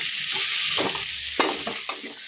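Crushed garlic frying with onions in a pan for Pulicat-style prawn thokku, a steady broad sizzle with several sharp scraping stirs of a spoon, close and alone.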